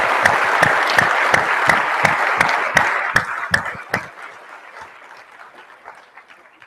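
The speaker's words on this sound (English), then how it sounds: "please join me in a round of applause for that accolade to Paul." A conference audience applauds a colleague's Order of Canada honour, with rhythmic, unified clapping at a steady beat that breaks up after about four seconds into scattered, fading claps.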